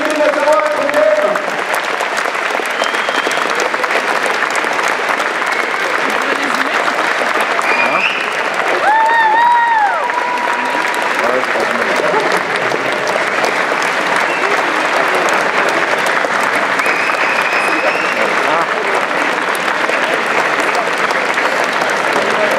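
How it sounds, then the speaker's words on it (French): A conference audience applauds the people on stage with sustained, dense clapping that fills the room from start to finish, with some cheers and a brief voice rising over it. "Allez, on les applaudit s'il vous plaît"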